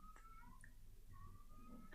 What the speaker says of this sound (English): it's one of my cats